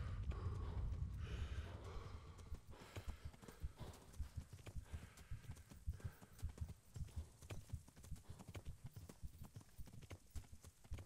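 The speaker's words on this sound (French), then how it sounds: "c'est mon cheval qui galope" A horse's hooves pound in a fast galloping rhythm in Kingdom Come: Deliverance, a continuous run of clip-clops close by, with no voices.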